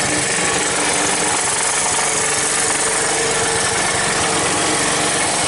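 A 1981 Honda ATC185S vintage ATV, once seized, idles steadily with its engine running loud and close, a rough continuous mechanical clatter with no talking.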